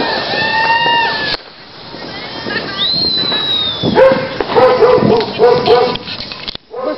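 A dog barks and yips in short repeated bursts at an outdoor evening fireworks event, close and fairly loud, with a few whistling fireworks and people talking nearby.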